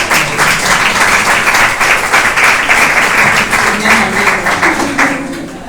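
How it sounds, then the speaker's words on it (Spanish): Audience applause at a book presentation, close and loud, a dense even clatter of hands that holds steady for several seconds before thinning out at the end. "un aplauso al señor que tiene que decidir si hay libro"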